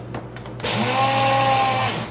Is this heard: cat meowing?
no